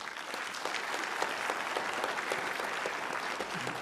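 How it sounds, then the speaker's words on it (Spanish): An audience at a lecture in a legislative palace applauds a speaker with loud, steady, dense clapping that continues throughout. "les pido un fuerte aplauso al doctor Alfredo Jalife Rame"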